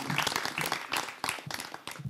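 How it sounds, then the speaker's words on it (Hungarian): Audience applause at a Hungarian book launch, a short burst of scattered claps from a small crowd, close and uneven, with a few louder individual claps standing out. "De egy tapsot azért"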